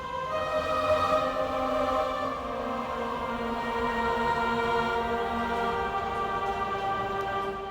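A sustained synth pad from The Foundry, layered with a breathy organ tone, holds steady chordal notes at a moderate, even level, with a soft airy hiss beneath, and no voices.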